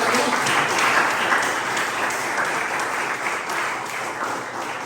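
Steady applause from a church congregation fills the space, a dense wash of many hands clapping evenly for nearly five seconds at a fairly strong level.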